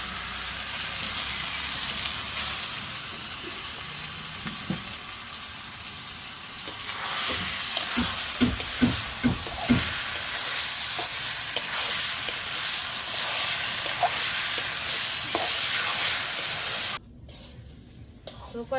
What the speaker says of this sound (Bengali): জিরে তেজপাতা তারপরে দারচিনি লাই সব কিছু দিয়ে এই যে শুকনা মরিচ দিয়ে ভাজা ভাজা করে দিয়েছি